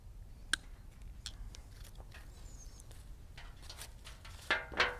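Garden shears snip through viburnum flower stems in a few quick, crisp cuts, faint and close, with a sharper pair of snips near the end and no talking.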